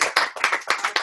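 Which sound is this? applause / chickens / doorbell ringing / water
applause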